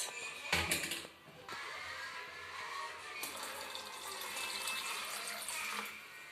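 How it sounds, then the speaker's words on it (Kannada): Water pours steadily into blended apple juice for several seconds, a continuous splashing, gurgling flow after a brief clatter, with no voices. "ಇದಕ್ಕೆ ನೀರು ಆ್ಯಡ್ ಮಾಡುವ ಗೈಸ್"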